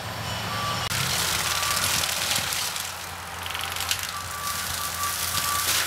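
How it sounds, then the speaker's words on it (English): A forestry mower working on a tree-service clearing site, heard as a steady, loud mechanical roar and broadband engine noise throughout, with faint high tonal beeps over the machine noise; no talking. "You can hear the machine working in the background."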